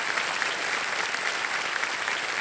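Loud, dense applause from the studio audience of the game show Kaun Banega Crorepati, an unbroken wash of many hands clapping throughout.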